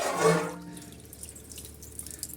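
Dishes being washed under running water give a short close splash from the tap that quickly stops, leaving faint drips and small clinks.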